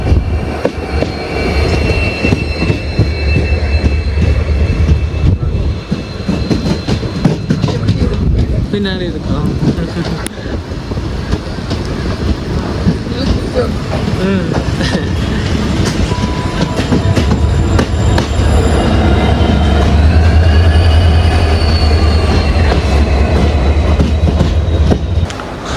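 A train pulls into Punalur railway station in Kerala on the Kollam–Aryankavu line, wheels clattering and squealing loudly and continuously over the rails while someone talks throughout.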